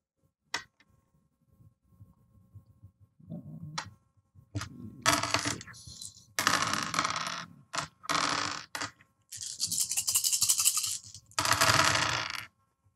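Several dice are rolled and clatter onto a hard surface in bursts of rattling clicks and skittering, with pauses between throws during a tabletop role-playing session.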